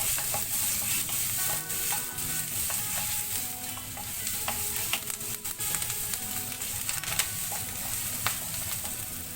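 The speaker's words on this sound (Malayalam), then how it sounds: "ഇഞ്ചി വെളുത്തുള്ളിയൊക്കെ എണ്ണയിൽ കിടന്ന് നന്നായിട്ടൊന്ന് വഴന്ന് വരുന്ന ടൈമിൽ" Ginger, garlic and curry leaves sautéing in hot oil give a steady, close sizzle with frequent scrape-and-clink stirring strokes throughout.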